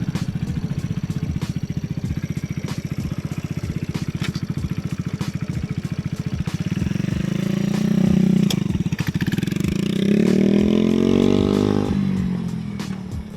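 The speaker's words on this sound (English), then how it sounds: "use first gear, little bit gas, let the clutch go, and then you're gonna move a little bit" A Kawasaki Z125 motorcycle idles with a rapid even putter, then the throttle opens as the clutch is let out and the engine rises into a louder, climbing rev before easing off at the end.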